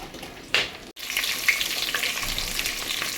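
Onions and spices sizzle and crackle in hot oil for bagara rice, a steady close frying hiss with a few louder pops and stirring scrapes.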